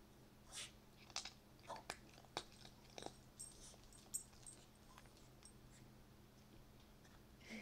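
A calico cat crunches treats close by, with a series of faint, irregular crisp bites and chewing clicks over a quiet, humming room background.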